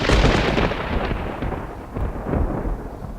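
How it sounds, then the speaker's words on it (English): A loud, sustained rumbling roar with deep low booms rolling on for several seconds, like a close thunderclap, with no voices. "It was the worst streak of lightning that anyone had ever seen, followed by the loudest clap of thunder"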